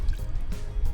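A volleyball drops into a container of water, giving a short splash followed by sloshing and gurgling for about a second, close and fairly loud.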